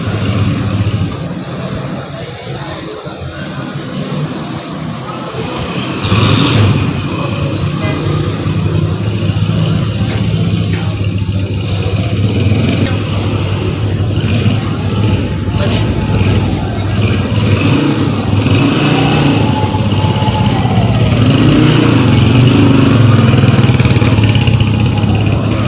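A newly bought motorcycle in Islamabad runs with a steady mid-pitched engine drone and a couple of rising revs near the end, close and loud, with people talking nearby.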